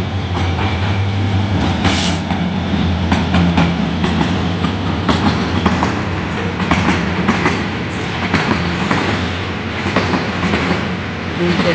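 A container freight train rumbles and clatters past at close range at Airport station in Uttara, Dhaka, a loud, steady roar of wheels on rails with no break for the whole stretch.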